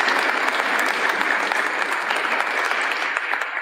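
A crowd at a political meeting in Blackburn applauds hard and without letup, a dense, steady wash of clapping that holds loud throughout.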